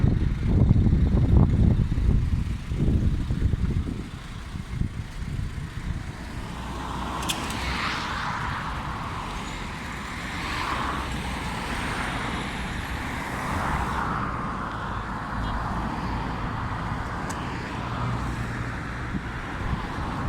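Cars and heavy vehicles passing on a roadside, a loud rumble close by at first, then a steady wash of traffic with hisses and whooshes of further passes.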